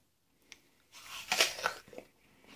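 A crunchy Rajka apple, red with green and yellow flush and slightly russeted, is bitten into and chewed, giving a short sharp crunch followed by a second of close, crisp chewing noises with no talking.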